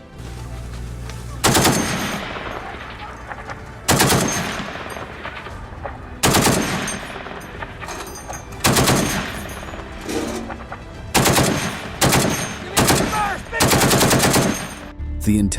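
A .50 caliber machine gun mounted in the back of a Jeep fires loud, rapid bursts, about eight separate volleys broken by brief lulls, with a continuous rumble underneath.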